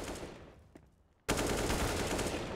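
M4 rifle fire on the Dust2 map in Counter-Strike, a quiet lull with faint taps before a sudden loud, sustained burst of rapid automatic gunfire that continues to the end.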